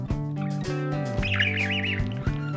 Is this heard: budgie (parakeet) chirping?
yes